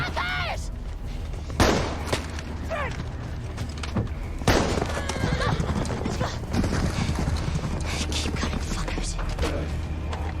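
Hooves clip-clop at a gallop while a horse neighs loudly several times, amid busy background noise and scattered bangs, in The Last of Us TV series, episode 8.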